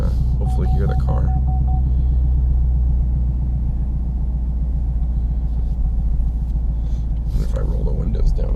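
Inside a modded car while driving on ordinary roads, the engine gives a deep steady droning rumble with a regular pulsing throb, while someone talks over it at length.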